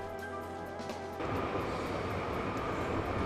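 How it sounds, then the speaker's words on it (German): A train on the Rennsteig line pulls away on a Christmas Nikolaus excursion, quiet at first and then a sudden swell of steady, rumbling rolling noise as it gets moving. "Pünktlich setzt sich der Zug in Bewegung und der Nikolaus auch."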